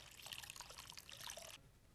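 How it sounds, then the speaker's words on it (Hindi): Water poured into a golgappa spice mixture of salt and spices, a steady close trickling splash lasting about a second and a half before stopping abruptly. "अब इसमें हम पानी डालेंगे।"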